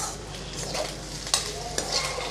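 Egg rice being stirred in a pan, a steady scraping and shuffling with faint sizzle and a couple of sharper utensil knocks against the metal.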